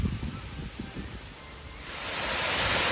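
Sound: Phen Phop waterfall at Phu Kradueng, full of water

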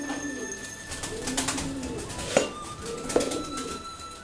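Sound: young pigeons being fed

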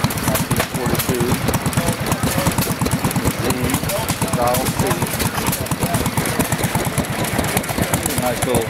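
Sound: antique stationary gas engine running

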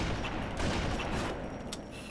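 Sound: machine gun fire in a Halo-style video game

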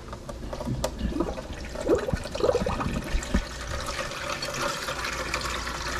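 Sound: water running from a kitchen tap

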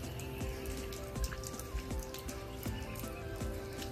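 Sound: heavy rain falling outside

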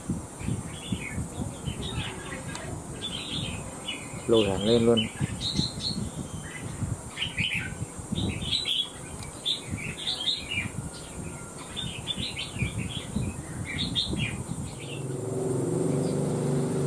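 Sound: red-whiskered bulbul (mào lân) chirping

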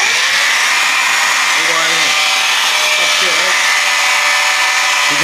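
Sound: polisher buffing a painted Lamborghini Aventador

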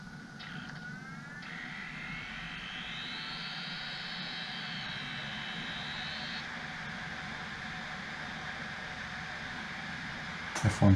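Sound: Dell Latitude CPi laptop spinning up

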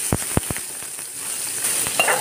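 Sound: tomato slices and paneer frying in a pan

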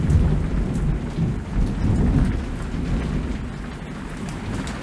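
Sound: thunderstorm with rain on a VHS film soundtrack

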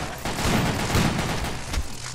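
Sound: gunfire in video game Zombie Panic! Source

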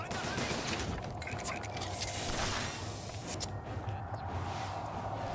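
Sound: gunfire from guns in the video game BioShock Infinite

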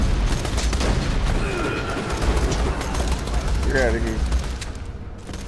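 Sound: shotgun fire in the video game Borderlands

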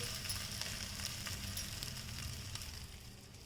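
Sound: field bean puffed rice cutlet frying on a griddle

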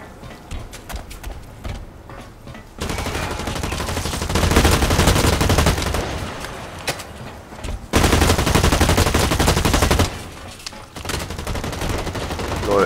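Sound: gunfire in the Blacklight Retribution video game

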